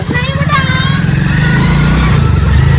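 A motorcycle engine idles loudly and steadily up close, with a rough throbbing rumble and some faint voices in the background.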